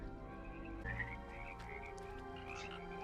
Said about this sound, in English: Didn't think I'd see Luke force lifting frogs